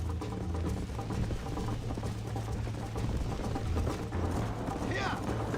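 A horse gallops in Red Dead Redemption, its hooves beating a steady, fast rhythm under a continuous bed of game sound while voices talk over it.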